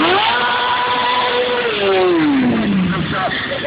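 Motorcycle engine during stunt riding, idle raised high, revs rising and falling in a steady whine, close and loud with a voice talking over it.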